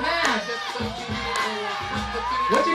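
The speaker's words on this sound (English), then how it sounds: "Crowd, give them your energy! Give them your energy, crowd!" A loud crowd at a night-market dance battle preliminary round cheers, whoops and shouts continuously, with high excited voices layered over thumping music and an MC's voice cutting through.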